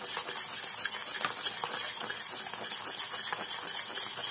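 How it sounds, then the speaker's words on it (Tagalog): Kikiam sauce bubbles at a rolling boil in a pot while a utensil stirs it steadily, with a continuous close sizzle and scraping. "Yan na, kumukulo na siya ng bonggang-bongga."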